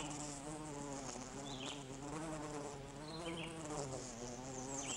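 Bees buzz in a steady, droning hum with occasional closer passes, continuous and unaccompanied by voices.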